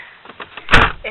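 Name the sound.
leg bumping against a door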